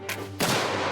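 A musket is fired at a Regency-era house party, a loud close blast followed by a rushing, rumbling echo that fills the rest of the brief moment.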